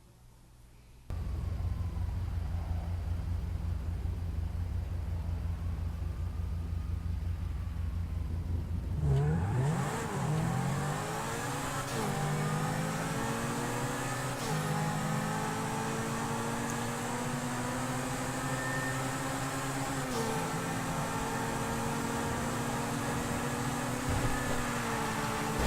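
Two supercars, an Entity and a Zentorno, race in GTA V, engines droning steadily before a surge of revving at the launch, followed by sustained high-pitched acceleration with gear shifts rising and dropping throughout.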